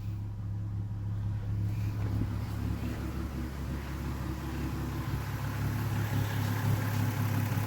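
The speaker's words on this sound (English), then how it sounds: "Engine's just purring nicely." A VW Bora VR6 engine idles steadily after a front-end install, a constant low hum that stays even and unbroken throughout with no talk over it.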